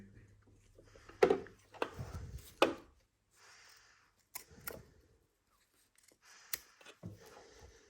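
Several sharp, close snips of scissors cutting off leftover bias binding fabric while sewing pajama trousers, spaced irregularly between quieter handling noises, with a little speech.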